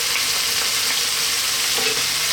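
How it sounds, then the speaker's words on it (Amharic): Chicken and onions fry in a pan, giving a continuous bright sizzle with faint stirring, loud and close, with no talking. "ሽንኩርቱ ዶሮ እየተጠበሰ እዚህ ጋር ደርሰናል"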